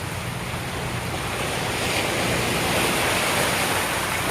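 Steady roar of sea waves with constant broadband wash and wind noise, loud and continuous throughout with no talking.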